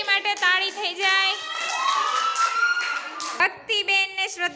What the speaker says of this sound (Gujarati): અંજલિ માટે તાળી થઈ જાય